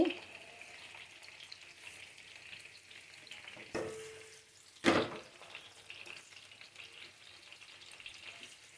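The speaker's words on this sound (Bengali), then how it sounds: "আর আলুটা উল্টিয়ে দিব। ওই দিকটা ভাজা হয়ে গেছে" Medium potatoes, raw and rubbed with turmeric and salt, fry in hot oil in a pan with a steady close sizzle, broken by a couple of sharp spatula clatters as the pieces are turned.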